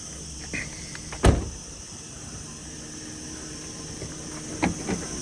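The electric sliding door of a Honda Stepwagon Euro Cruiser camper van runs with a steady motor whine and faint mechanical hum, then a sharp thump as it latches, followed by a couple of softer clicks.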